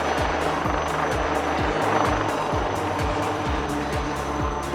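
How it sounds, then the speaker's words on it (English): A HAL Light Utility Helicopter flies rearward at an air show, its rotor giving a loud, steady, rapid thumping chop over a continuous engine whine, close and sustained throughout. "The pilots now get ready to perform the rearward flight, culminating in the accelerating tail-up hover."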